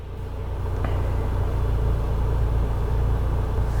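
Steady low rumble of a car interior on a drive, a constant road and engine drone held at an even level throughout with no talking.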